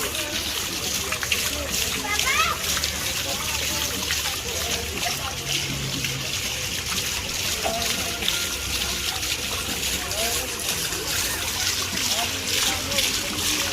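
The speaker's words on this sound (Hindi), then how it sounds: "पानी का साउंड आ रहा है" Water splashes steadily at a tourist spot in Amritsar, a continuous close wash of falling and spattering water under background chatter and faint music.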